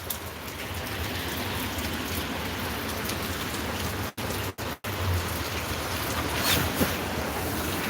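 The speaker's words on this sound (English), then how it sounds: "It is raining hard." Heavy rain on a stormy night: a dense, steady roar of drops hitting surfaces, close and loud, broken only by a few brief dropouts, with no voices.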